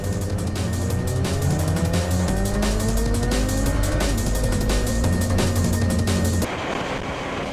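Kawasaki Z750 motorcycle riding on a road, its engine droning loud and steady with rising and falling pitch sweeps as it changes speed, then a sudden drop to a lower, rougher rumble near the end.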